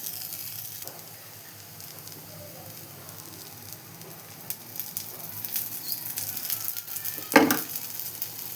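Urad dal dosa cooking in a pan with ghee gives a steady soft sizzle, and the crackle builds louder toward the end with a sharp spatula scrape near the close.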